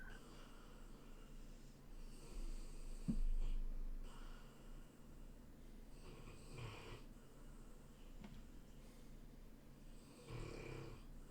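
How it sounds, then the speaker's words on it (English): A pet dog snoring across a living room, a faint, slow series of rasping snores and snorts at a relaxed breathing pace, fairly distant and quiet. "Your dog snores so loud."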